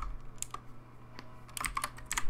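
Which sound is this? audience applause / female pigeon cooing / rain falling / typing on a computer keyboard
typing on a computer keyboard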